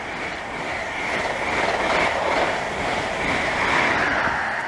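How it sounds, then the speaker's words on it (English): An HST high speed train runs through a station, a steady loud roar of wheels and rushing air that holds for several seconds with a faint rhythmic rattle underneath. "passing through now is a HST off to somewhere"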